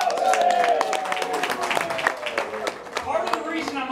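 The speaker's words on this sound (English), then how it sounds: "Tony, everyone give him a round of applause." Comedy club crowd applauding at a stand-up show, loud clapping with voices and cheers layered over it, easing off briefly and then rising again.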